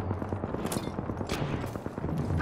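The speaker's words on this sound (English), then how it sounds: "I am taking fire" Rapid gunfire rattles during an Apex Legends fight, a dense stream of moderately loud shots with overlapping bursts and echoes and no talk over it.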